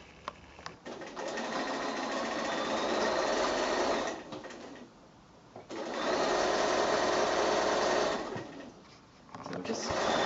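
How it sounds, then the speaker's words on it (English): A sewing machine stitches the flange onto a quilt in steady close runs, each several seconds long and separated by brief pauses, with soft talking in the background. "I'll just keep sewing"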